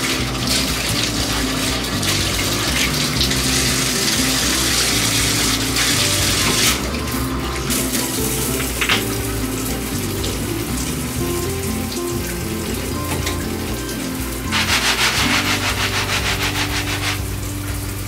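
Shower water runs steadily in a bathroom while a dog gets a bath, a continuous close hiss with a few brief surges and changes in the spray.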